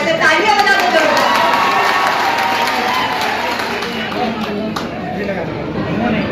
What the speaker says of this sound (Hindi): सबकी फरमाइश है, तालियां बजा दो जोरदार